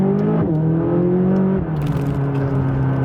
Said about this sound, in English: Let's do a little bit of acceleration here.